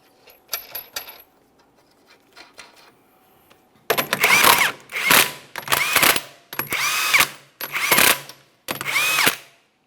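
A power tool runs a wheel's 21mm lug nuts onto a 2008–2017 Mitsubishi Lancer, with six loud rattling bursts of impact hammering after quieter clicks at the start.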